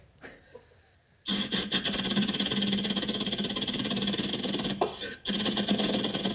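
A voice imitates a helicopter landing, cutting its engine and lifting off again: a steady, loud rotor-like whir that starts abruptly, runs for several seconds, dips briefly near the end and then resumes.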